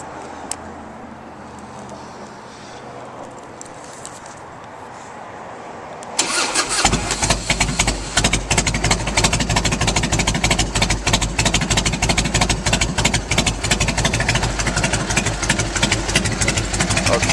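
After several seconds of near silence, a 1998 Harley-Davidson Heritage Softail Springer engine cranks with the choke fully out and no throttle, firing up and settling into a loud, rough, pulsing run close by.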